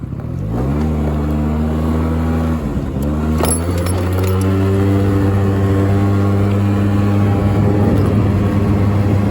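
Motorcycle engine recorded through a homemade windjammer on an iPhone microphone, a loud steady drone that revs up through rising gear changes, with a brief dip between shifts and constant road and wind rush underneath.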